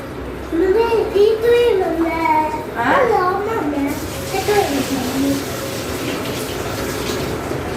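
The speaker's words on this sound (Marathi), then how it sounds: "आता नळ आले पाणी आपल्या नळाला आले आहे" Water gushes steadily from a household tap, a constant rushing hiss that carries on alone once a child and an adult stop talking over it early on.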